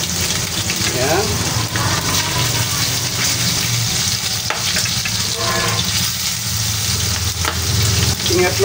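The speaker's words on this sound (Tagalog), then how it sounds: "medyo ipiprito-prito lang po natin yung ating pork hanggang maging golden brown" Pork liempo frying hard in oil in a pan, a loud continuous sizzle with crackling and occasional spatter throughout, close up and steady.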